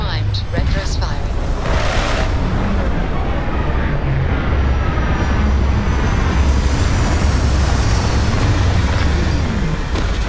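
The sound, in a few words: spaceship landing with retro thrusters firing, Starfield video game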